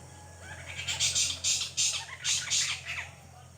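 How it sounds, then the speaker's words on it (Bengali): An owl calls from a tree in gathering darkness, giving about six harsh, raspy squawking bursts in an uneven rhythm at moderate distance, with no talking. "পেঁচার ডাক"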